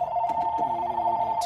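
A telephone rings with a steady electronic two-tone trill, close and loud, holding a constant pitched buzz for the whole moment with a faint click near the end and nobody speaking.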